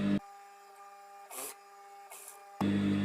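An electric sewing machine runs steadily as it stitches the side seam of a baby frock half an inch from the edge. It starts and stops abruptly, with a strong motor whir at both ends and softer mechanical ticking between.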